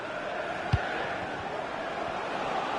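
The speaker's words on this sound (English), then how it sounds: "And she's being egged on by the crowd." A stadium crowd in the FC25 football video game keeps up a steady, even roar with one short low thump partway through. No one speaks.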